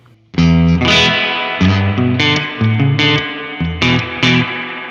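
An electric guitar runs through the spring reverb mode of a Boss RV-5 digital reverb pedal, loud chords and single notes struck in a steady pattern, each attack trailing off into a short wash of reverb, with no talking.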